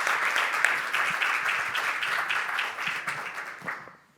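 An audience at a Boston University diversity panel event applauds, a dense sustained round of clapping from a crowd that fades out at the end.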